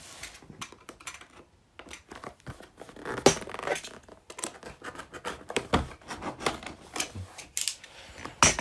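Packaging of a Samsung Galaxy M51 box being opened, with close, irregular crinkling, scraping and tearing noises plus sharp clicks and rustles scattered through the clip, and no talk.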